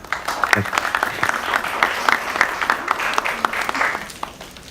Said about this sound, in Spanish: Un aplauso para el profesor Cristian Ondino